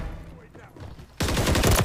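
Rapid weapon fire in the Call of Duty MW3 multiplayer beta, a sniper-style rifle with a fast fire rate, bursting in loud and dense after a quieter stretch of game sounds.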